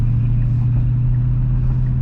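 Steady low engine drone from inside a car driving on city streets with Tesla FSD Beta 9.2 engaged, a continuous rumble holding level throughout with no voices as it accelerates.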